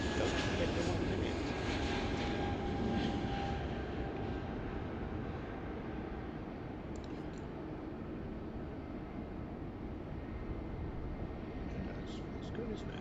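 A jet airliner taking off from Heathrow bound for Madrid, a steady broadband roar heard from a distance that fades slightly over the whole span, with no voices.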